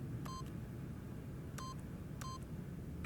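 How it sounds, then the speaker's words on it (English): Keypad buttons pressed to enter a PIN in the video game The Stanley Parable, three separate electronic tone beeps spaced about a second apart over a low background hum. "by simply pushing random buttons on the keypad, Stanley happened to input the correct code by sheer luck"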